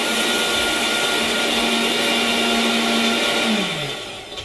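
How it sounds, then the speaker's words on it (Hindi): A kitchen blender grinds Goan vindaloo masala in one steady, loud whirring drone that holds for several seconds, then the motor pitch sinks as it winds down near the end. "डाल दिए सब चीजें ब्लेंडर में और ब्लेंडर को दिया"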